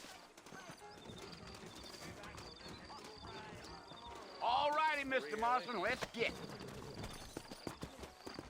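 Horse hooves clip-clop steadily in a Red Dead Redemption game scene, with a horse whinnying midway and someone speaking over the trotting.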